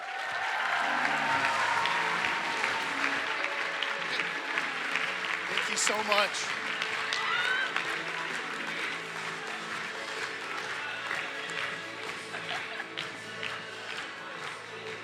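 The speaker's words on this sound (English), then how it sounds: "Give him a round of applause" Sustained crowd applause and clapping for a speaker at the 2024 National Pro-Life Summit, loud and steady throughout, with a voice speaking briefly over it.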